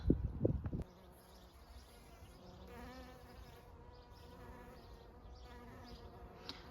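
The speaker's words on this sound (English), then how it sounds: "I don't know if you can quite hear the bees" A soft, steady buzzing of bees around delicate garden flowers drifts through a quiet outdoor scene after a brief rustle at the start.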